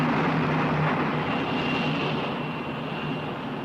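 Passenger airliner engine droning steadily through the cabin in flight, a loud, constant broadband roar with no voices over it.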